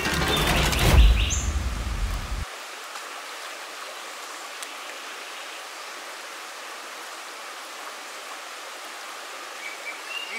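Steady broadband rush of a river flowing outdoors, continuous and even after a brief louder burst of handling noise at the start, with faint bird chirps now and then.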